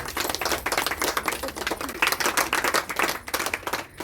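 A crowd claps continuously, with many hands producing dense, crackling applause that holds steady throughout.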